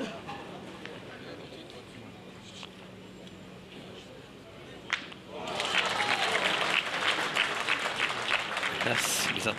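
Spectators at a Coupe de France pétanque match burst into loud, sustained applause midway through, after a quieter stretch of murmuring crowd noise and commentary-style talk.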